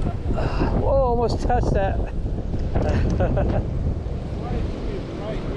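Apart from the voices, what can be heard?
strong wind blowing while fishing on a lake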